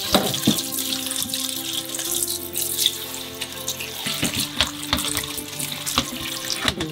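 Running tap water splashes into a sink while food is washed, a steady close rush with small clinks and knocks of handling, no talking.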